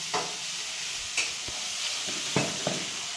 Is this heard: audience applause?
no